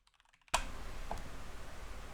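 A computer keyboard typing a mod name into a search bar while a farming game runs, a few faint soft taps at first, then a sudden, steady background hum and rustle with a brief click partway through.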